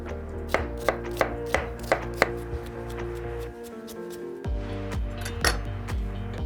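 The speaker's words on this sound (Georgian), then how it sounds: "დავჭრათ ხახვი წვრილად." A knife finely chops onion on a board with sharp, evenly spaced chops close up, followed by a short pause and then a few more irregular cuts over a low tonal hum.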